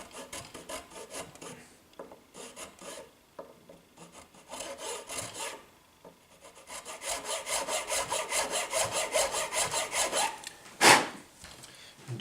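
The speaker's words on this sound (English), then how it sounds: "I have the nut file here again, 17 thousandths, which matches, and we can just go in again here" A 17-thousandths nut file saws back and forth in the nut slot of a Tradition G10 Strat guitar, making a close, steady rasping stroke. The strokes speed up and grow louder toward the end before a short sharper scrape.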